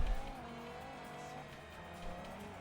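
Mazda RX-8 with its rotary engine racing in Forza Horizon, a steady high engine drone with faint tire squeal, continuous and moderately quiet, no talking.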